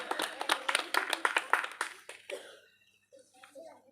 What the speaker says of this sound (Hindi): ताली बजा लो अपने लिए